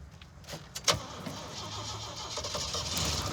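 An AMC Pacer built for off-road use cranks and fires up, a few sharp clicks and a starter whir giving way to a rising engine rumble that builds steadily, close by.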